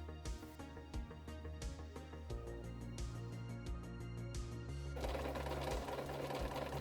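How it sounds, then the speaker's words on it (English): Short bursts of a sewing machine stitching along a fabric edge onto fishnet for a cosplay outfit, with rapid, close needle chatter that stops and starts several times before running into a denser, steadier stretch. "Sewing on the very edge will secure it to the fishnet"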